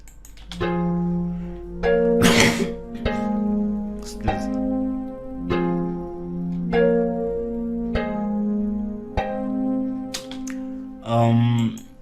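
Sustained synth chords change in a steady rhythm, and short percussive hits land on the beat alongside them.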